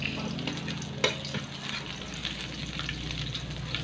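Garlic and onion fry in a pan for adobong sitaw, with a steady, close sizzle and one clear utensil clink near the start.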